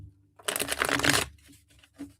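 Tarot cards are riffled in one quick, close shuffle lasting under a second, followed by a few softer card taps and slides.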